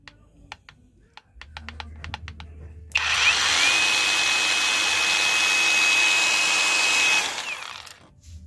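A cheap cordless angle grinder clicks a few times, then spins up and runs with a loud, steady high whine for about four seconds before winding down, with no talk over it.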